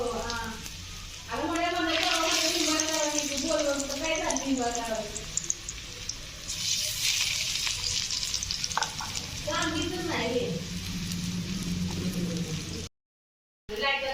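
Cut coriander vadi pieces (kothimbir vadi) fry in hot oil with a steady, rain-like sizzle that runs throughout, while someone talks over it.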